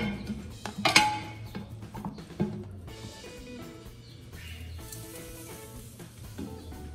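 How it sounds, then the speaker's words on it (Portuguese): Marinated meat goes onto a home charcoal barbecue grill with a few metallic clinks and knocks, followed by a soft, continuous sizzle close by. No voices are heard. "carne está no ponto, vamos colocar para assar"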